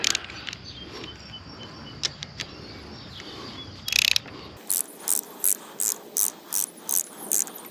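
A ratchet tightens a handlebar clamp mount on a Royal Enfield Meteor 350 motorcycle, first with faint clicks and scraping, then a close, crisp series of about eight evenly spaced ratcheting clicks.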